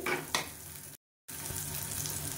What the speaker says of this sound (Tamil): வெங்காயம் கொஞ்சம் நல்லா வதங்கிடுச்சு.